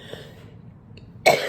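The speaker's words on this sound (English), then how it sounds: "I'm going to cough again." A single sharp cough from one person bursts out near the end after a stretch of near silence, close and fairly loud.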